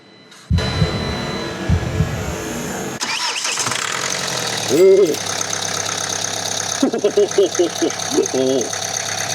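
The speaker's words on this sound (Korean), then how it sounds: "이제 시동 한번 걸어볼게요" A car engine cranks and fires after a new part has been fitted for a cold-weather starting fault, catching at once and settling into a steady, smooth idle, with people talking over it in short bursts.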